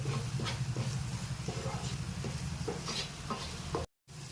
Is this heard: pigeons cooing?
no